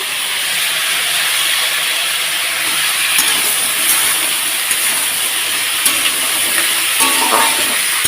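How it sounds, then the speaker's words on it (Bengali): Spices and dried tomato fry in a pan for a Bengali drumstick stir-fry, giving a steady, loud, broadband sizzle and hiss throughout with faint clinks, no talk. "এটাকে এখন সুন্দর করে হালকা করে লাল লাল করে ভাজা করে নেবো"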